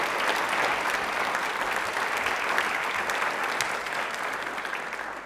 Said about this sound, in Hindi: तालियां प्लीज एक बार जोरदार हो जाए